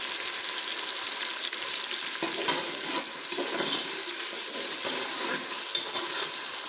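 Moong dal fries in a pan with a little added water, giving a continuous, close sizzle and crackle broken by occasional stirring scrapes and soft pops, with no talking.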